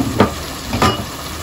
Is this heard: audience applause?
no